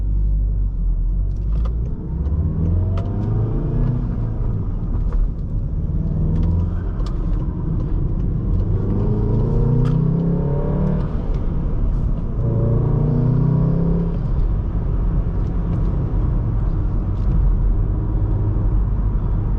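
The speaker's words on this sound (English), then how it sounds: "I do like the sound of this turbocharged 4-cylinder." A 2019 Volkswagen Golf R's turbocharged four-cylinder engine rumbles low and steady, rising in a few revving surges as the car accelerates, heard from inside with no talking.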